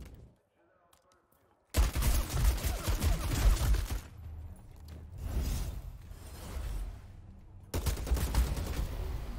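Gunfire in the Bloodhunt vampire battle royale game erupts after a near-silent start into loud, dense volleys of rapid shots that ease into a lower stretch of fire before a final heavy burst, with a voice speaking over it.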